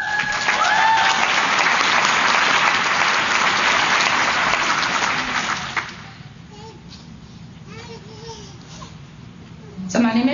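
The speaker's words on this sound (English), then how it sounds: "Now let's hear it for our second Rising Up and Moving On Award recipient, Liliana Garcia." An audience at a child abuse prevention breakfast applauds an award recipient, loud sustained clapping for about six seconds that fades to quiet room sound with scattered voices and a child's sounds.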